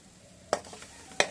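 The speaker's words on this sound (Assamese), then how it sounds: "গুড়খিনি গলি যোৱালৈকে লৰাই থাকিম" Chopped jaggery being stirred in an iron kadai as it melts for peanut burfi and chikki: a soft background sizzle with two sharp scraping strokes of the spoon against the pan, close up.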